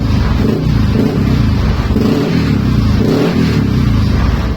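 A Yamaha NMAX V2 scooter engine, checked while it idles and revs, gives a loud, steady engine drone that swells in repeated rhythmic surges, with no talking.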